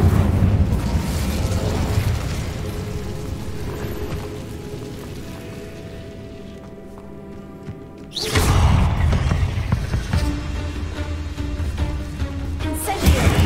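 An Incendio fire spell cast in a video game, a loud sustained burst of whooshing, crackling roar that fades to quieter tonal ambience midway before erupting again with a second dense, powerful blast.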